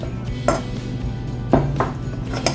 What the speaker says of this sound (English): Then whisk that baby some more.